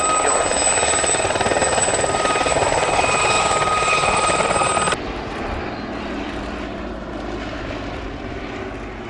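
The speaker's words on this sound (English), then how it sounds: "the gazelles are very, very sleek flying machine" Gazelle helicopters flying by at an airshow, a steady loud rotor and engine roar with a whining turbine tone that cuts abruptly midway to a quieter, more distant drone.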